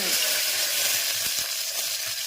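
Curry leaves, chilies, mustard seeds and cumin sizzling in hot oil, a loud, close, continuous frying hiss with faint crackles and pops.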